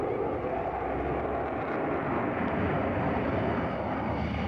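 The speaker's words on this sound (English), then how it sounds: "A jet fighter streaks through the sky over France." A jet fighter flies over the Paris air show at Le Bourget in France, its engine giving a steady, loud, broadband roar that fills the whole span with no break and no voices.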